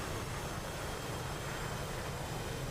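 An aircraft engine running out of fuel in a video game gives off a steady, dense roar that holds level throughout, with no voices over it.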